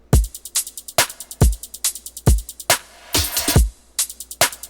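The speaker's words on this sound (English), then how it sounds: "So only the drums, they sound like this." Electronic bass music drum loop with a punchy kick, layered snares and looping hi-hats, played alone in a steady driving rhythm with a brief fill or noisy burst near the middle.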